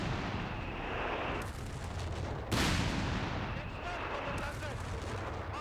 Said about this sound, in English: Try it against a machine gun here. This is the Vickers.